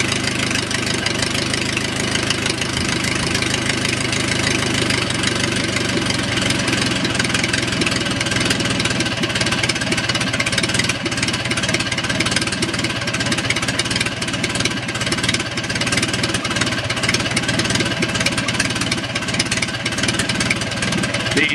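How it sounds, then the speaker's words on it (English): Lycoming four-cylinder aircraft engine, a warmed-up 4A084, idling near 400 RPM, a loud, close, rough and uneven chugging drone that runs continuously with slight fluctuation and no talk. "Now that it's warmed up, I'll see how low I can get the idle."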